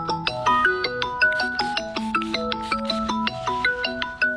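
A mobile phone plays a melodic ringtone of bright synthesized notes in a steady repeating pattern, loud and close, outdoors while someone is metal detecting.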